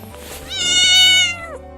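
A pet cat gives one clear, drawn-out meow, loud and close, rising and then falling in pitch over about a second, with a low steady hum in the background.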